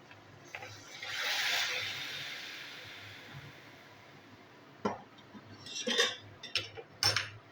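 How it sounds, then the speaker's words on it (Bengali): Hot water pours into a pan of fried spices for mixed vegetables, a hissing, sizzling rush followed by clinks of a utensil against the pan. "গরম জল দিয়ে দিচ্ছি।"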